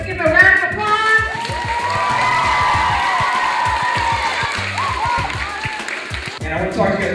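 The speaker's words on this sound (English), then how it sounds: "Let's give a round of applause." Schoolchildren in a gym give a sustained round of applause and cheering for visiting UVM men's hockey players, a steady wash of clapping with whoops and excited voices throughout.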